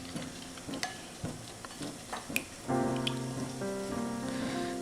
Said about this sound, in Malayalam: അപ്പോൾ നമ്മൾ ഈ അരിപ്പൊടി ഒന്ന് നന്നായിട്ട് കലക്കിയെടുക്കുക